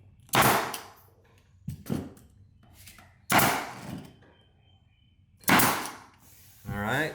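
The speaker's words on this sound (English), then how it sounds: "let's sink a nail in there." Sharp, loud nailer shots driving nails into hardwood flooring, several distinct bangs spaced a second or more apart, close and percussive, with quiet room tone between them.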